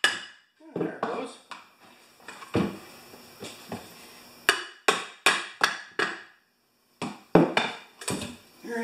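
A brass hammer striking a part on a Craftsman lawn mower, a dozen or so sharp metallic knocks in uneven bursts, close and loud, with quieter ringing between blows.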